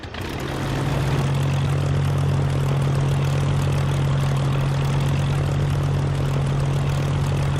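A Hawker Hurricane Mk.II's engine runs steadily in a flight simulator game, a loud, continuous low propeller drone with a strong, even hum that holds unchanged throughout, alone with no talk.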